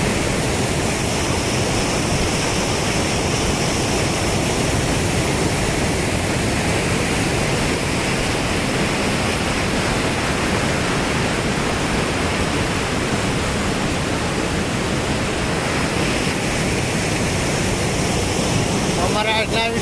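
The flooded Saga Vadi river rushes past in a loud, dense, unbroken roar of churning water that fills the whole stretch without pause, close and overpowering.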